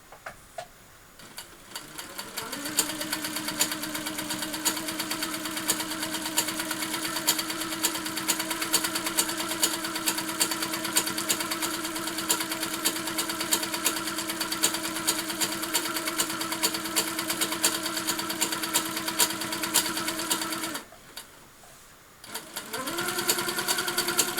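A sewing machine free-motion stippling a quilt border: a steady close motor whir with rapid, even needle ticking that runs continuously, stops briefly near the end, then starts again. No one talks.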